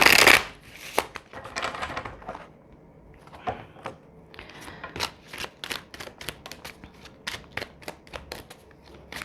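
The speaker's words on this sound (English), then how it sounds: "I'm just going to get shuffled with these." Close-up tarot card shuffling: a loud riffle at the start, then a steady series of sharp flicks and taps as the deck is worked repeatedly.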